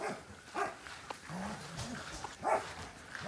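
A puppy gives a few short yips and whimpery barks at irregular intervals, fairly faint and close, with quiet room noise in between.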